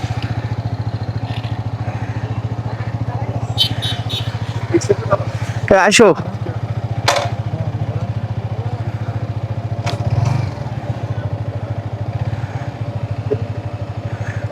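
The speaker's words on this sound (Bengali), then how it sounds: "আমরা মোটরসাইকেল স্টার্ট দিব।" A motorcycle engine idles steadily, then revs as it sets off on a hill road through Darjeeling Para village toward Keokradong, with a brief clattering burst midway. People talk over the continuous engine drone.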